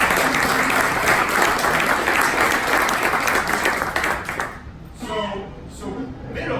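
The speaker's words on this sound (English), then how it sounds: "give a round of applause to our sponsors" Hackathon kickoff audience giving sponsors a round of applause, dense steady clapping that dies out after about four seconds as a voice resumes talking.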